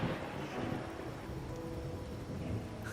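Steady rain pours in the video game Wuthering Waves, a dense continuous hiss of falling water with a low rumbling undertone, filling the scene evenly with no voices.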